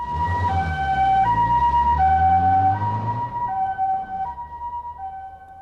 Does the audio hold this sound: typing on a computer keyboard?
no